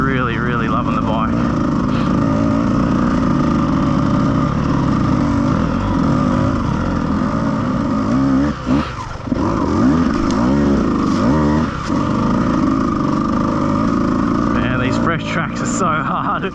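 Dirt bike engines, a Beta or Husqvarna, running on a slippery rocky trail, a continuous loud buzzing drone with rising and falling revs throughout, while a person talks over it.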